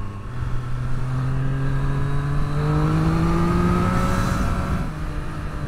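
A 2023 Triumph Street Triple 765 RS motorcycle being ridden on a gritty, gravelly road, its engine climbing in pitch through a gear with steady wind roar, loud and close.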